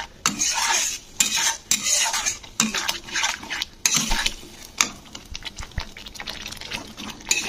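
A metal spoon stirs masala with tomato sauce and water in a pan for Bengali chital fish kalia, giving repeated close scraping and clinking strokes in uneven bursts over a soft sizzle, no talk.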